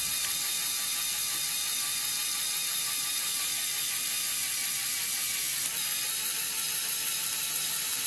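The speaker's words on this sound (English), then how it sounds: "what I don't really like is after reverse the motor for it to go back up" A Lego container truck motor running in reverse to raise the dump bed gives a steady, faint mechanical whirring and ratcheting of gears, continuous and close with no voices.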